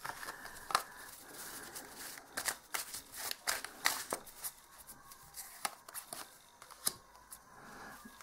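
Fortune-telling cards being shuffled up close: a quiet run of crisp riffles, slaps and flicks in uneven bursts, with no voices.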